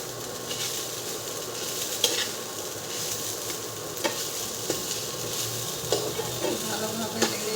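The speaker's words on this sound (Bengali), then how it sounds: "ভালো করে নেড়ে নেব।" Coconut and sugar being stirred in a pan for a cashew-coconut sweet, a steady scraping and soft sizzle with occasional sharper clinks of the spoon against the pan, close and continuous.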